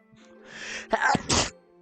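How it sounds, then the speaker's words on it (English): A single forceful human sneeze, loud and close, with a short sharp intake before the burst and no talking around it. "that was powerful sneeze"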